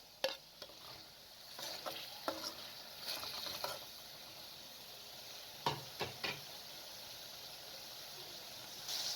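An onion, tomato and green chili mixture is stirred in a pan for a chicken liver dish. A soft low sizzle runs throughout, broken by several sharp spoon scrapes and clacks against the pan.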